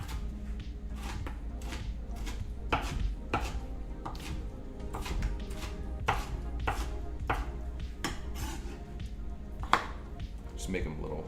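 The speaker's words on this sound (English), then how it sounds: "I'm gonna go ahead and give that another chop with those onions in there." A knife chops onions and kimchi for fried rice on a plastic cutting board, a steady run of sharp, close knocks that repeats throughout against a low kitchen background.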